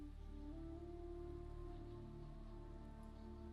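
Rain falls on soft earth in a town: a quiet, muffled, continuous patter with a faint steady hum underneath and no voices.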